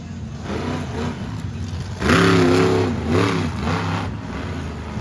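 Monster truck engine at a back-to-school freestyle show, loud and close, revving hard and straining with rising and falling pitch over a continuous rumble, no talk over it.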